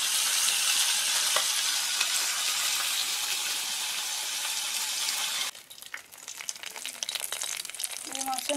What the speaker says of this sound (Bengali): আর ওদিকে আমি মাছের মাথাটা ভাজতে শুরু করে দিয়েছি, রুই মাছের মাথা